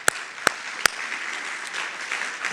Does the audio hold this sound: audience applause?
yes